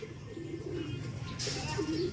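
Racing pigeons cooing as they come back into the loft after a race, low soft coos repeating steadily at close range with some faint background noise and brief chatter.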